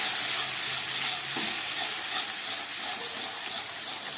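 Spices with dry chilli powder and a splash of water fry and are stirred in a pan for chilli paneer, giving a loud, continuous sizzling hiss with scraping movement throughout.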